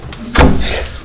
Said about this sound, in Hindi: बाथरूम खोलो